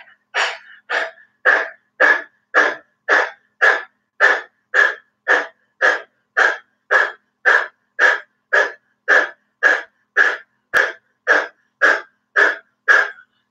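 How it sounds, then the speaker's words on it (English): Rapid, deep panting breathing exercise from yoga pranayama, about twenty-five forceful breaths in a steady even rhythm, close and loud, with no talking. "we're just gonna pant like a dog for 3 minutes."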